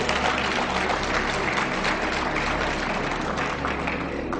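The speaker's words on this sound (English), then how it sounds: "Yes, you can clap for that." Steady, dense applause from a large lecture audience, holding at an even volume for the entire stretch.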